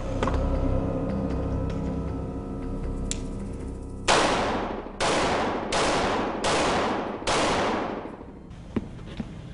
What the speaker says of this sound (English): I'm going to start back down on the ground, shooting into a low position